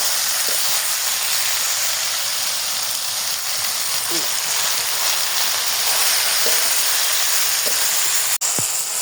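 Potatoes sizzle in a hot pan seasoned with salt and turmeric, a loud steady hiss and crackle with a few soft clinks and a sharp knock near the end.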